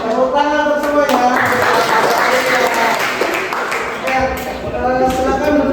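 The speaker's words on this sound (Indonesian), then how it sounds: "Tepuk tangan untuk semuanya." A classroom audience applauds together in a steady, dense wash of clapping that fills the room and carries on for several seconds with voices mixed in.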